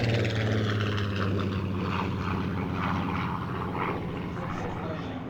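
A Spitfire Mark 19 with a 2,500 horsepower Griffon engine and counter-rotating propellers makes a low pass, a loud sustained propeller-engine roar that shifts slightly in pitch as it goes by, with faint voices underneath.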